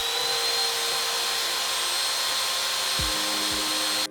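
Bosch Colt compact router running with speed control, a loud steady high-pitched whine throughout, briefly shifting near the end as it winds down.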